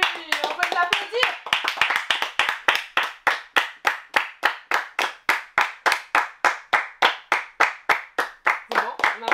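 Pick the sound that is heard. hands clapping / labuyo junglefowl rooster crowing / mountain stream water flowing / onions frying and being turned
hands clapping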